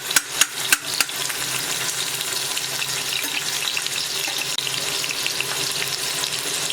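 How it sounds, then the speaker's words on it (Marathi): Half an onion sizzles in a spoonful of hot oil in a wok, a tempering for Malvani horse gram pithla. A few sharp knocks open a steady, close, broadband crackling hiss that continues throughout. "हा बघा मी इथे अर्धा कांदा घालते आहे फोडणीला।"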